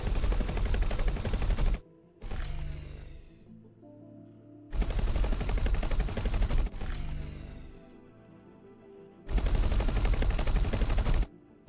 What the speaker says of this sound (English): Like there we got a short burst.